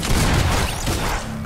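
A quick volley of loud, close gunfire in Fortnite at Tilted Towers with an automatic sniper rifle, a dense crackling burst fading into a low hum.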